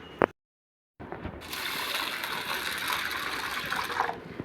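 Moong dal lentils being washed in water, a brief splash, a short silence, then a steady gushing swirl of water and grains that continues to the end.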